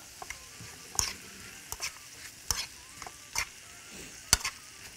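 Minced garlic and chopped onion sauté in a pan while a spoon stirs them, giving a soft, low sizzle broken by about eight sharp scraping strokes at uneven intervals, close and fairly quiet.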